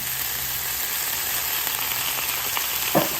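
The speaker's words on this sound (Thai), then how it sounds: "เห็ดเริ่มสุกแล้วนะคะ" Mushrooms fry in a pan for a Thai-style dish, giving a steady, close, loud sizzle that runs throughout with a few soft stirring clicks near the end.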